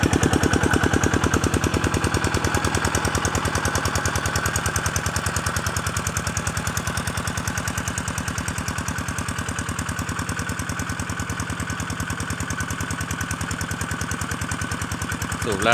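An engine-driven water pump draws water from a canal to irrigate rice fields, its motor thumping in a fast, steady pulse that stays loud and close throughout, with a faint voice underneath.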